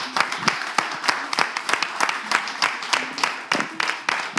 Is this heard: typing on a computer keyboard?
no